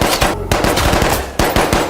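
Rapid bursts of close automatic gunfire crackle continuously, with a brief gap before more loud volleys.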